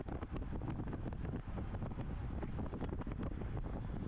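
Heavy wind buffets a cyclist's microphone during a masters criterium race, a dense, continuous low roar that fills the whole moment with constant rumbling gusts and no voices.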